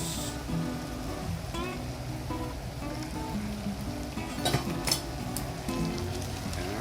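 Yakisoba noodles stir-fried in a pan over a high flame, a steady close sizzle with clinks and scrapes of utensils against the pan edge as the noodles are tossed.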